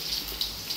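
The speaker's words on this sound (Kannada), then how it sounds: "ಈಗ ಇದಕ್ಕೆ ಸ್ವಲ್ಪ ನೀರು ಹಾಕಿ" Water poured into a pot of rasam over a garlic tempering fried in cow's ghee, a short steady trickling stream with faint splashy pulses.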